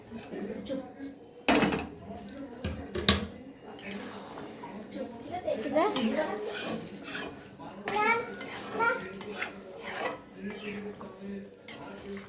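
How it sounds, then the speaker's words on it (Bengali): A spoon stirring meat curry in a pot after hot water is added: metallic scraping and clinks against the pot, with one sharp clatter early on, mixed with children's voices and talk in the background. "ভালোভাবে নাড়িয়ে এটাকে ফুটতে দিয়ে দিতে হবে।"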